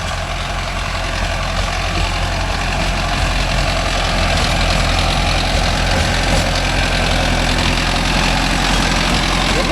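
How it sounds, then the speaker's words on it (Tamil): A Mahindra Arjun Novo 605 tractor runs a rotavator that has something caught in its blades, giving a loud, continuous low engine drone with a rough, churning texture throughout. "இந்த ரொட்டேட்டரில் என்னமோ மாட்டிக்கிட்டு டம்முன்னு அடிச்சுக்கிட்டு வருது"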